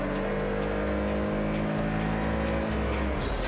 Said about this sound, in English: when you kick the automatic transmission down